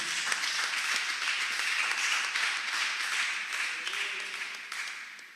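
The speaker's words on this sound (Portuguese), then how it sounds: "Aplauda a palavra de Deus." A church congregation applauds continuously, a dense wash of many hands clapping for several seconds and fading slightly at the end, with no clear speech.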